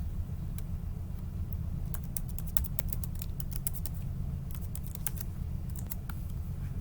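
Fingers tap out a username on a computer keyboard in quick, irregular bursts of clicks over a steady low hum, with no talking.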